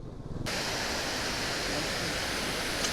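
A hidden waterfall in Telangana gives a loud, continuous roaring rush of falling water that starts abruptly and holds steady throughout.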